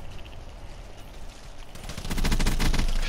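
Gunfire from a sniper rifle in Call of Duty Black Ops III: a quieter stretch of battle noise, then loud rapid crackling shots for the final second or so.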